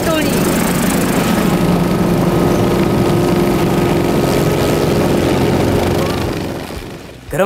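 A helicopter flies overhead with a loud, steady engine and rotor drone that holds for several seconds before fading away.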